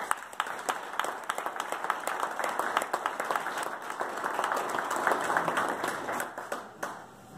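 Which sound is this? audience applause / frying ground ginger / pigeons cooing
audience applause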